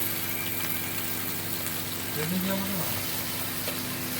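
Bhola fish frying in hot oil in a pan, giving a constant close hiss and bubbling throughout with a brief low murmur partway through.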